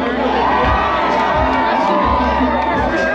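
A dense spring break crowd at South Padre cheers, whoops and shouts loudly and close by for a few seconds, a wall of overlapping voices.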